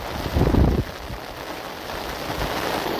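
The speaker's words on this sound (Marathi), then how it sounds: "पाऊसच जबरदस्त पडतो." Heavy rain pouring steadily outdoors near a village viewpoint in the evening, a dense continuous hiss with a louder burst early on, no voices.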